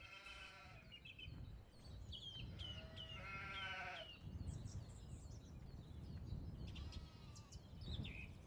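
Sheep bleating in Farming Simulator 17 on the Amazon Island farm map, several wavering bleats overlapping one another across the stretch, fairly close, over a steady low rumble of background game sound.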